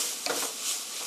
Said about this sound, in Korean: 파프리카와 양송이가 익을 때까지 한 2미닛, 1분 정도 볶아주세요.